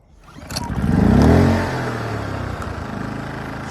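A Powersmart 2500 gas generator engine starts up close and loud, surging quickly to a rising revving roar, then settling into a steady, even running drone.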